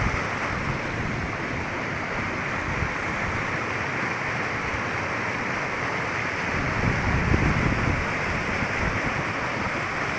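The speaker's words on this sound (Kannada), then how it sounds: "ಹೊಸಕೆರೆ ಎರಡನೇ ತೂಬು ಕೋಡಿ ಪಕ್ಕ ಓಪನ್ ಆಗಿದೆಯೇ ಓಪನ್ ಆಗಿ ನೀರೆಲ್ಲ ಕಡಿಗೆ ಹೋಗ್ತಾ ಇದ್ದಾವೆ" Water rushes out through the open second sluice gate beside the overflow weir of Mugadalabetta lake in Pavagada taluk, a constant dense roar that stays steady and loud, with no voices.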